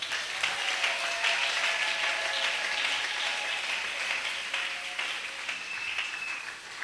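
A church congregation breaks into sustained applause during a worship service, a steady dense wash of clapping at moderate distance with no voices on top.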